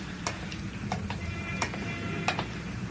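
Footsteps sound effect in a radio drama: a series of evenly paced, fairly close taps clicking over a low background hum.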